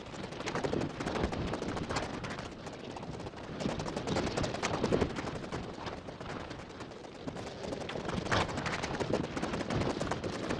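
In the video game The Forest, a log cart rolls with a continuous, heavy rumbling and crackling, dense and steady throughout, its directional emitter filtering and shifting the texture heavily.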